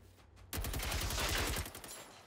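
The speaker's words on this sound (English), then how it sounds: "KVM59 machine gun, is not a problem" A KVM59 machine gun firing in Generation Zero, a loud sustained burst of rapid, evenly spaced rounds that starts suddenly after a short quiet lead-in, stops abruptly, and leaves a brief tail of echo.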